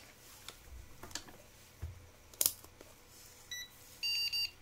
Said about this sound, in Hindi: देखो बीप सुनोगे तो समझ जाना डिस्प्ले आ चुका है